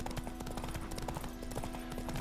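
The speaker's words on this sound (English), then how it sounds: "Quit hitting me with your horse! This ain't bumper horse." Horses trotting in The Witcher 3 video game, with a steady, busy clip-clop of hooves under a constant game background hum, fairly close and continuous, with no clear neigh standing out.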